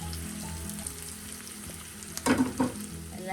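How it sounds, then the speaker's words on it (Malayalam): Long beans with chili powder sauté in a pan with a constant sizzle, and a few louder scraping stirs near the end. Close by, no talking. "എല്ലാം കൂടെ ഒന്ന് വഴറ്റാം"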